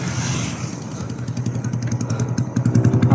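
Motorcycles pass along a street in Marilak: close, continuous engine drone with rising and falling revs that grows louder toward the end, with no talking.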